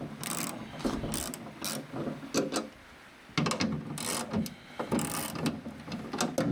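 A hand ratchet clicks in repeated short bursts while removing a car's brake light, close and fairly quiet, with a brief pause midway before the clicking resumes.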